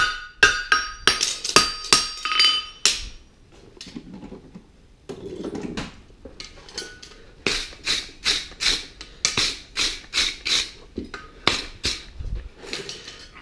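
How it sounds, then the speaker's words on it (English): A hammer forges a horseshoe bar, about 5/16 inch stock, around an anvil bick: rapid runs of sharp ringing metallic strikes in quick rhythmic bursts, close and loud, with short pauses between series. "So we're just forging it nicely around the bick until we get the shape that we want."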